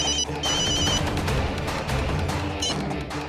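Telephone ringing with a repeating electronic ring tone, two bursts separated by a pause, moderately loud over a busy dramatic background.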